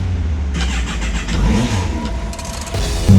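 A Kawasaki Concours 14 sport-touring motorcycle engine revs loudly and close, with a steady roar that swells around the middle of the clip and surges again at the end. No one speaks.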